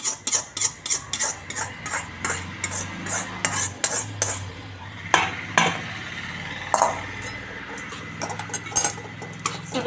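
Semolina and gram flour are stirred as they roast in a pan, making a rhythmic series of sharp scraping strokes that come quickly at first and then grow sparser, with a low background hum.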